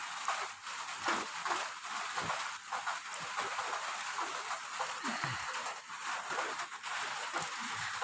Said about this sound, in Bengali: আর দেখো কীরকম বৃষ্টি হচ্ছে, তোমরা কিন্তু শব্দ শুনতে পাচ্ছ, টিপ টিপ টিপ টিপ, তাই না?